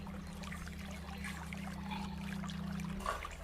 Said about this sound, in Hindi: मैं इस पानी को इस ग्लास में, दूसरे ग्लास में डालता हूँ